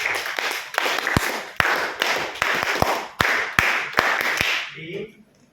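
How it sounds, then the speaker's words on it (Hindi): A classroom group at a Civil Defence CBRN master trainer class claps for a participant, sharp, distinct hand claps in an uneven rapid rhythm close by, fading out quickly at the end with a little talk mixed in. "प्रशांत जी के लिए एक बार तालियां बजाओ"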